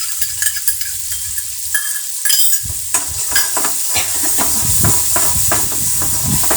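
Ginger garlic paste sizzling and frying in a hot pan for egg masala, with steady loud crackle and hiss, stirring scrapes and brief clatters of a utensil against the pan throughout.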